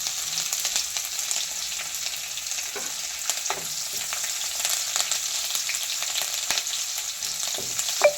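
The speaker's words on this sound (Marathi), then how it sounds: "मिरच्या पण फ्राय करून घेऊया" Green chillies frying in oil with browned roasted garlic for a tandulja greens dish, giving a steady close sizzle with occasional stirring clicks and scrapes throughout and no voices.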